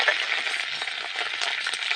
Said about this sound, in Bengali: এর মধ্যে কালো সর্ষে দিয়ে দেবো, 5 ফোড়ন দিয়ে দেবো, সামান্য করে কটা কারি পাতা